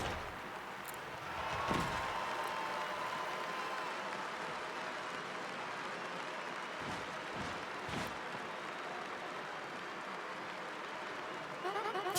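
A game-arena crowd in Paper Mario: The Thousand-Year Door applauds and cheers a wrestler's entrance, a steady wash of clapping that carries on for several seconds.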